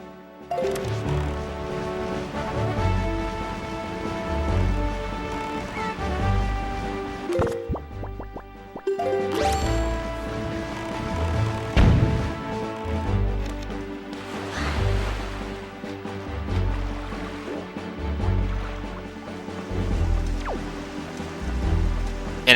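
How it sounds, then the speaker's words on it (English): Light rain falls in The Legend of Zelda: The Wind Waker near Bomb Island, a soft steady patter running under bright game music with rhythmic low beats for the whole stretch, with no voices. "And apparently it's raining, but it doesn't look like it's raining."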